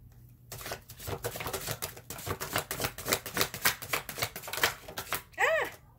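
Deck of tarot cards riffled and shuffled in rapid dense bursts of crisp flicking clicks, close and steady, ending with a short fluttering slap as a card flies out.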